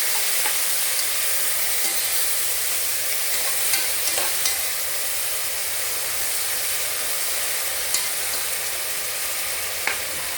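Chopped tomatoes fry in oil in a pan with a loud, continuous sizzle, broken by occasional small pops and spatters over about ten seconds, with no voices.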